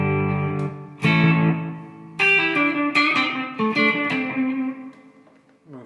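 Electric guitar played through a DOD FX96 Echo FX analog delay pedal: a few loud, sustained chords and single notes, each trailed by smeared, repeating echoes that fade out, with no voice.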